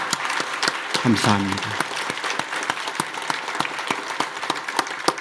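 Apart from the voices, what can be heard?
congregation applause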